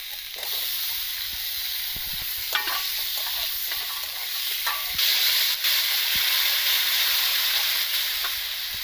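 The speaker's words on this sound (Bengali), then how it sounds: "তো দিয়ে দিলাম অল্প একটু ধনের গুঁড়ো, নাড়িয়ে নেব" Rohu fish curry being stirred in a pan after coriander powder is added, with a continuous loud hiss and sizzle and scattered scraping clicks of the spoon against the pan, close up.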